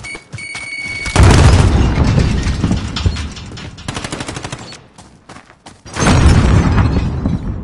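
Frag grenade blast in the shooter video game Warzone, a loud booming explosion amid bursts of gunfire, with a short lull before another heavy roar of blasts and shots, close and intense.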